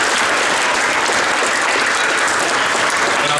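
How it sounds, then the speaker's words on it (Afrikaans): A crowd gives loud, dense, continuous applause for a sponsor at a sports tournament clothing handover function. The clapping stays close and unbroken throughout. "Julle kan baie hande klap gee."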